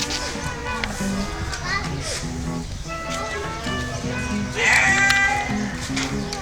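Sheep bleat repeatedly at a sheep farm in Pattaya, Thailand. The cries come close and overlapping, mixed with children's voices and people talking nearby.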